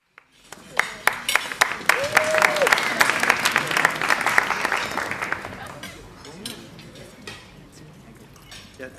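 An audience applauds a speaker at a gathering honoring a former teacher; sharp claps build into a dense burst of clapping that swells, then thins out over several seconds, with a voice briefly heard within it.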